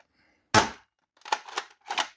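Dart Zone Stryker blaster firing short darts: one sharp, loud pop followed by three quicker, lighter shots in an uneven burst, with no talking.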